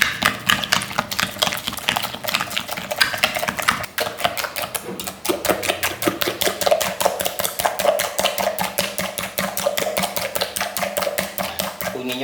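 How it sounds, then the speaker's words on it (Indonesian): An egg being whisked into pancake batter in a bowl, heard as a fast, steady stream of rhythmic tapping and clicking strokes that carries on throughout at close range. "Dan kita kocok sampai agak encer nih."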